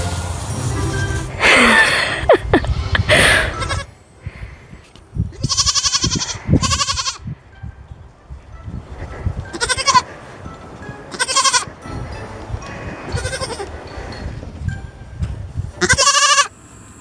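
Goats bleat repeatedly in short, wavering calls, several separate cries spread across the stretch with quiet gaps between, fairly close and loud.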